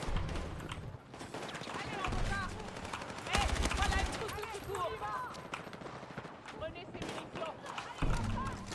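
Gunfire in the Battlefield video game comes in bursts and rapid volleys mixed with other game effects, while a player's voice talks over it for much of the time.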